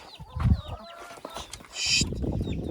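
Broody hens cluck near their growing chicks, with low close clucks and high thin chick peeps mixed together, then a burst of shuffling scratches and a short shrill squawk.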